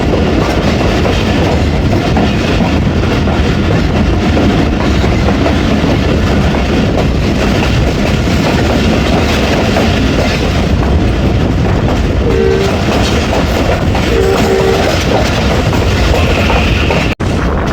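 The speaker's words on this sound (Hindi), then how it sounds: "तो हमारी 48 डाउन रहमान बाबा एक्सप्रेस नूर जंक्शन से पास थ्रू हो रही है।" The Rahman Baba Express passenger train rumbles loudly through Noor Junction in Pakistan at speed, wheels clattering steadily over the rails for a long stretch, with a brief faint tone partway through.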